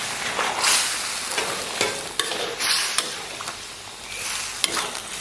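Rice noodles stir-fried in a wok for spicy Xinjiang fried rice noodles, a steady loud sizzle with scraping strokes of the spatula and a few sharp clinks against the pan.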